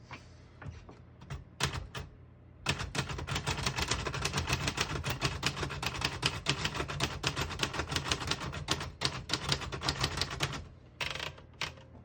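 Rapid mechanical clacking of typewriter keys on a 1959 Royal Futura 600 manual portable typewriter comes in quick bursts, close and loud, with brief pauses between runs of strikes.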